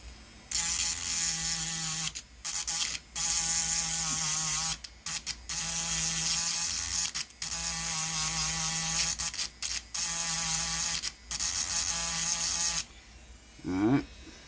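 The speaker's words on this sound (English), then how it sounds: "I'm gonna take a grinding pin to this" A grinding pin works on a Quicko T-75 portable soldering iron, giving a loud, steady high-pitched grinding whine in long runs broken by brief pauses. It stops near the end, followed by a short rattle.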